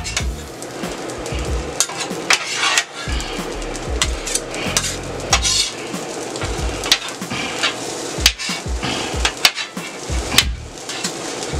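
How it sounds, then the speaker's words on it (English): Carrots, onions and garlic tossed into rice frying on a steel pan, with scraping and stirring of a metal utensil against the pan, clanks and taps over a steady sizzle, close and fairly loud. "I'm going to go ahead and add my carrots and onions and garlic"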